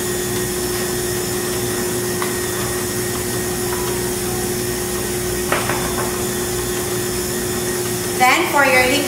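An electric mixer creams butter and sugar for vanilla cupcake batter with a steady, even motor whir throughout, ending in a brief louder clattering burst.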